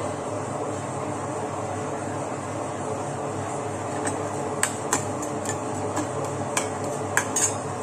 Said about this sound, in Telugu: దానికి ఫస్ట్ శనగపప్పు మినపప్పు ఆవాలు పోపు వేసుకోవాలి